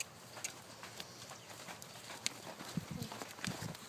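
A horse trotting during showmanship preparation, its hooves giving faint, irregular clip-clops over a steady outdoor background noise, at a moderate distance.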